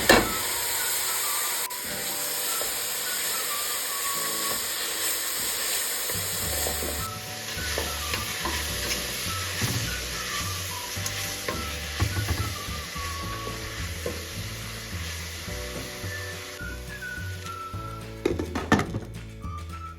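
Mung sprouts sizzling and steaming in a hot pan with turmeric and crushed cumin, a steady soft hiss with stirring scrapes and clatter, loudest near the end.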